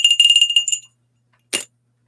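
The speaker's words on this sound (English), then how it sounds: "I will ring the bell to wish you well" A small bell rings in a quick rapid trill of bright metallic strikes, followed after a pause by a single short tap, loud and close in a quiet room.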